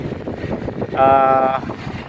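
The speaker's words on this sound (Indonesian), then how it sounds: "Nah ini angin sore ini di Jembatan Mahulu ini cukup kencang menurut saya." Strong gusty wind on the Mahulu Bridge over a river buffets the microphone with a low rumble throughout, and a brief tonal hum rises over it for about half a second.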